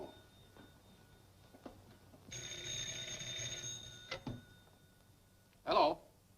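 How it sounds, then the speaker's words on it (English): A telephone bell rings in a steady sustained burst at a gate phone within an old radio serial drama, standing apart from quieter room noise, followed by a brief louder clunk. "Oh, no, it's the gate phone."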